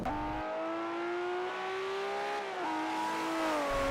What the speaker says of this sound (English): they can do this with its exhaust